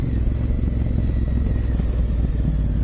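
2018 Honda Africa Twin motorcycle ridden off-road over ruts, a steady loud engine drone with low rumble and rattling, close and continuous without talk.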